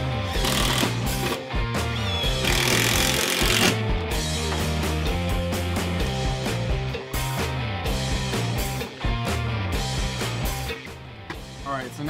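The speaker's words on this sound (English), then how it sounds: "So now we are ready to pre-drill our brackets and then screw them in." A power drill pre-drills holes and drives screws into brackets on a Homax Easy Gate Kit, giving loud, continuous whirring and grinding bursts with brief pauses between runs, close up and dominating.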